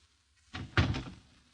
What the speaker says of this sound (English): There is no answer to your knock.